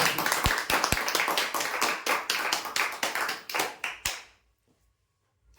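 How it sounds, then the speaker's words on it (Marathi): A round of applause from a crowd at a prize draw: many hands clapping steadily for about four seconds, then it stops and leaves near silence. "जोरदार टाळ्या द्या"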